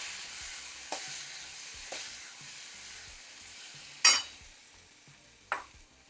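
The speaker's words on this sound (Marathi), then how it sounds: "आता आपल्याला याच्यामध्ये ते मगाचे ठेचलेले मूग घालायचे. थोडे परतून घ्यायचे आपल्याला." Crushed mung beans being stirred and sautéed in a pan with garlic in the tempering, a soft continuous sizzle broken by a few sharp scraping clinks of the spoon.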